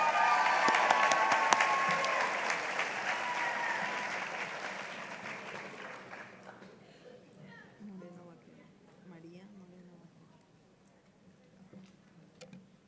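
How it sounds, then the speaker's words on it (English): Applause from an audience at a sheriff's office promotions ceremony rings out at first, then fades gradually into quieter scattered claps and murmuring voices over the last half. "Let's keep the applause going for Captain Brian Montgomery."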